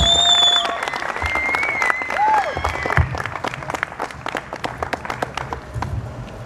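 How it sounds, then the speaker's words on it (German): Crowd applause at an outdoor rally on a town hall square in Freilassing, dense clapping that thins into scattered individual claps, with faint voices and background noise. "einen tollen Applaus für meinen nächsten Sprecher"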